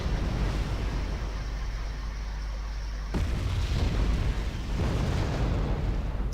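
Cluster bomb explosions in the video game Wargame AirLand Battle, a continuous rumbling roar of blasts with a sharp louder burst midway, dense and sustained with no talk.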